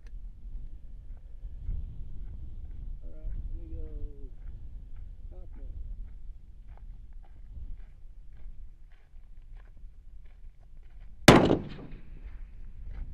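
A single loud rifle shot fired at a milk jug target 1,000 yards away, one sharp close crack late in a quiet outdoor stretch with low murmuring voices and faint background noise.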